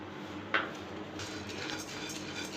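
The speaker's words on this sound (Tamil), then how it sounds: "இப்போ தோரம்பருப்பு போட்டு அதையும் செவக்க வறுத்துக்கிறேன்" Toor dal dry-roasting in a pan, with one sharp metallic clink of the spoon early on, then a soft, steady rustle and scrape of lentils being stirred.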